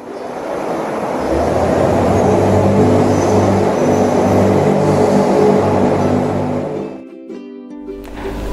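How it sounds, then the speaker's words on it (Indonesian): A Zamboni ice resurfacing machine runs with a steady, loud mechanical rumble and hum that holds for several seconds, then drops away abruptly near the end. "Z is for Zamboni, mobil Zamboni, mobil pelapisan es."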